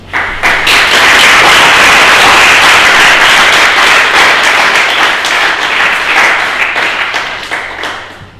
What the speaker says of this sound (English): So I propose just a last applause to our speakers.